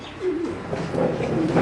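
A male pigeon gives a soft, low, rolling coo up close, repeated in a couple of throaty phrases over gentle background noise.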